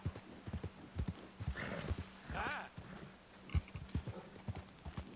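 Hooves clip-clop at a steady trot in the video game Red Dead Redemption 2, close and rhythmic, with a horse whinnying midway and faint voice-like sounds in the background.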